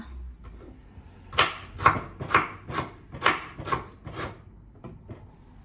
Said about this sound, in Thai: ค่ะตอนนี้นะคะก็จะหั่นตะไคร้นะคะ